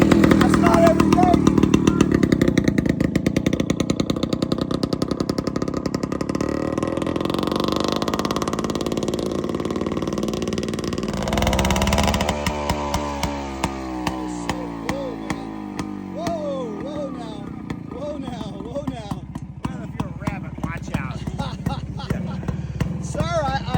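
A Harley-Davidson two-stroke engine revs loudly with a raspy, buzzing drone, rising and falling in pitch, then settles into a choppier, sputtering idle with sharp pops; talk is faintly present.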